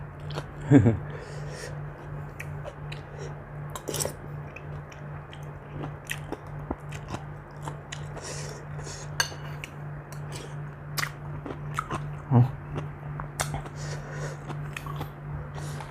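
Someone eating catfish curry cooked with sour bamboo shoots alongside a spicy cucumber salad, with soft close chewing and biting sounds, a few utensil clinks, and a steady low hum underneath.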